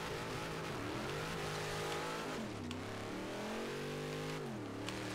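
A Jeep drives in Forza Horizon 3, its engine droning and revving with rising and falling pitch as it shifts and accelerates, steady and moderately loud with a faint tire squeal.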